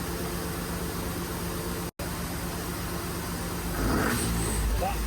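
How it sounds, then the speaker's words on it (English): A Jaguar engine fitted in an MGB GT runs steadily and close by, with a broad, noisy drone that swells slightly toward the end as it revs a little higher. No one speaks over it. "That's revving up a bit better now."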